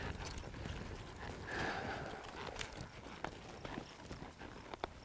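A horse walks on a slack rein, its hooves clip-clopping faintly in an irregular rhythm over a soft, rustling background.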